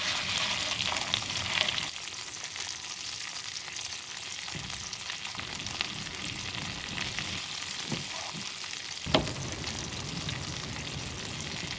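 Lobster tail frying in a pan at a truck campsite, a steady close hiss and crackle of sizzling fat with a few brief louder pops, no talking.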